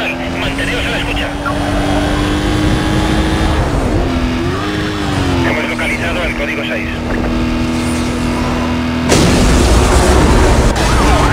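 A police car chase in Need for Speed Most Wanted, with a patrol car crashing and flipping amid roaring engines, a steady siren wail, skids, a louder impact burst near the end and radio dispatch talk over it.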